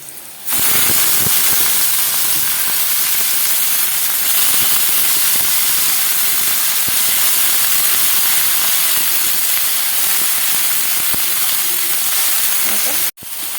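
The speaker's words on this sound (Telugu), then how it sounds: "ఇప్పుడు మనం వంకాయ ముక్కలు అయితే వేసేసుకుందాము" Brinjal pieces frying in a pan for vankaya vepudu, giving a loud, steady, steamy hiss that runs almost the full length, cut off briefly just before the end.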